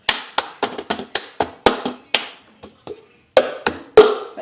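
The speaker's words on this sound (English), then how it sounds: "pick it up like this, smack your hand down, cup down." Cup song rhythm played by hand: sharp hand claps and plastic cups smacked and tapped on a table in a steady repeating pattern, close and alone with no talk.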